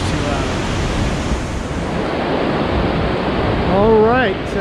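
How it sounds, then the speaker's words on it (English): A small mountain river near Lake Tahoe rushes loudly and steadily, a close, broadband roar of water filling the whole clip, with a person's voice briefly rising over it near the end. "This little river's too loud."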